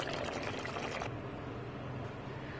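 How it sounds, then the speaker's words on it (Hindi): Two cups of water poured into a pot of soaked rice for masala aloo pulao, a short splashing pour lasting about a second before falling to a quiet hiss. "मैंने चावल ऐड कर दिए, और पानी भी मैंने इसमें ऐड कर दिया है 2 कप"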